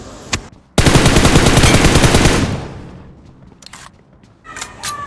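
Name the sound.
gunfire in BGMI video game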